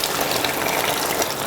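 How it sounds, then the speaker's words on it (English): Half a cup of water poured into a hot pan while cooking soup ingredients, a short, steady, close gushing splash heard alone. "Now we will add in here half a cup of water."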